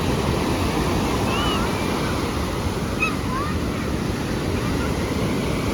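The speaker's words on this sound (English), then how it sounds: "The water coming in is bringing the wind in." Ocean waves rolling in on a steady wind at an outdoor spot in Rio de Janeiro, a continuous loud wash of surf and gusts with no clear breaks, a few faint bird-like chirps above it.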